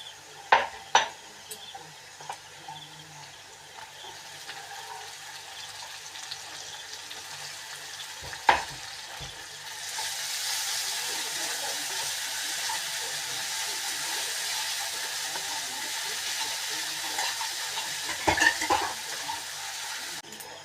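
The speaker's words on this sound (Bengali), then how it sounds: "পেঁয়াজ ভাজা হয়ে গেছে" Onions frying in a pan with garlic and ginger produce a soft sizzle that swells into a louder, steady hiss halfway through, with occasional clanks of utensils against the pan.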